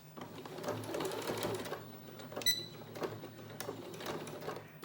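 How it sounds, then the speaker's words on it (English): Sewing machine back stitching fabric ties onto a mask, a steady close mechanical whir that runs in a few continuous bursts, with a brief pause and a small click near the middle. "I'm going to back stitch to start"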